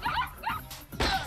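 A cartoon dog in an SMG4 Mario animation barks in three short, sharp yaps, close and fairly loud, with brief gaps between them.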